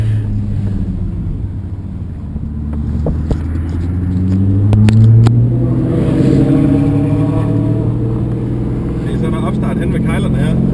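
A Chevrolet Corvette C06 sports car accelerating on the Jyllandsringen circuit, its engine note climbing steadily in pitch as it pulls hard, heard from inside the car, with a few brief talking voices over the roar.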